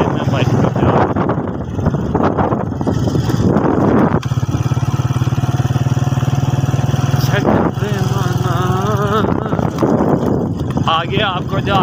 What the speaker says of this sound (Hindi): ये मैं बाइक पर जा रहा हूँ।